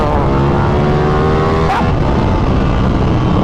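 A Ducati Panigale V4 superbike engine revving hard through a gear change, loud and close, with a sharp rising whine that breaks off mid-clip as the next gear is clutched in.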